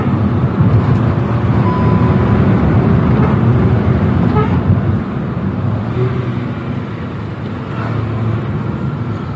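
A Hyundai i20 N-line hatchback with a sporty exhaust accelerating on an open stretch, its engine a loud, steady droning roar heard from inside the cabin that eases slightly partway through.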